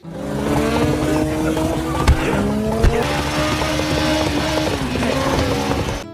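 Motorcycles ridden by attacking assassins roar through a John Wick film chase, a sustained loud engine drone with a couple of sharp impacts, set against dense background sound.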